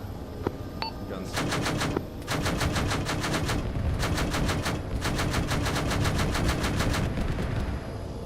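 Aircraft guns firing in long rapid bursts during an attack run in aerial interdiction training, two sustained rattling volleys separated by a short gap, loud and close over constant engine drone.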